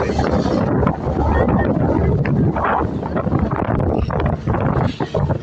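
A boat motor drones continuously at sea beneath heavy wind buffeting the microphone, with a voice occasionally audible in the noisy mix.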